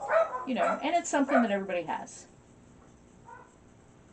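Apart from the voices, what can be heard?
dogs barking in the background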